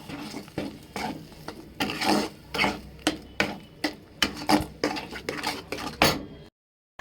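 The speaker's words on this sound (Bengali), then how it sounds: "একটু নুন দিলাম, চিনি দিলাম, এটা দিয়ে ভালো করে নেড়ে নেব।" A utensil stirs spices with salt and sugar in a pan, clinking and scraping against the metal in an irregular rhythm with a light sizzle underneath, close and fairly loud, ending abruptly.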